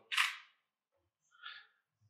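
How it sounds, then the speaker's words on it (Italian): A camera shutter fires with a studio flash set to half power in a still-life setup: a sharp close click followed about a second later by a softer second click, in an otherwise quiet room. "Adesso accendiamo il flash, abbiamo detto che siamo a metà potenza, e proviamo uno scatto"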